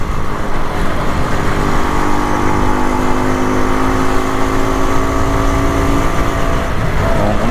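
A Rajdoot 175 two-stroke motorcycle on a long highway ride runs near 80 km/h with a continuous, loud engine drone and rushing road and wind noise throughout.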